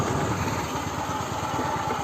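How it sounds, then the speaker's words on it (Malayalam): A motorcycle idles in the parking area of the New Ragam theatre in Vadakkanchery, its close, steady low rumble throbbing in quick even pulses for about two seconds with no voices. "നമുക്ക് തൽക്കാലം ഇവിടെ ബൈക്ക് വയ്ക്കാം"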